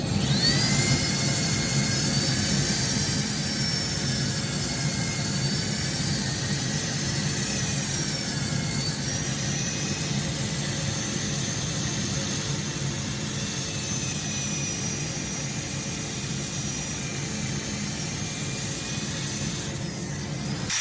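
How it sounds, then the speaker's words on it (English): A power sander on a large ash live-edge wooden bowl, at 120 grit, whines steadily and loudly, its high-pitched drone running without a break from start to finish. "we'll get on and do a bit of sanding"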